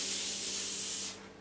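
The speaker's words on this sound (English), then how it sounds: "For that I'm using a oil spray." A continuous, close hiss of cooking oil spray greasing a baking tray lasts about a second before cutting off abruptly.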